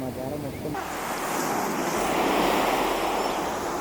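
Ocean waves break on the shore in a loud, broad roar that swells and holds, with wind buffeting the microphone.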